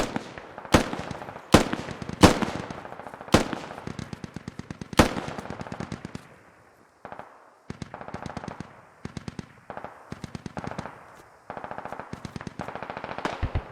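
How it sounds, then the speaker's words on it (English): Machine gun fire in the military shooter game Squad: long rattling automatic bursts with a few heavier single reports early on, a short lull, then more sustained bursts, loud and close with no talk. "The other machine gun that Murphy is using is now going."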